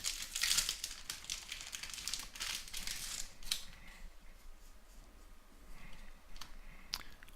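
A Magic: The Gathering booster pack being opened, with loud crinkling and tearing of the foil wrapper up close, followed by quieter rustles and clicks as the cards are handled.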